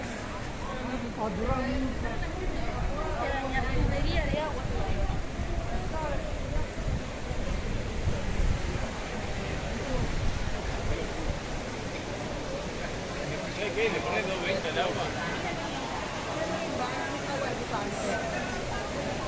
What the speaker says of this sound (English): This is the Trevi Fountain.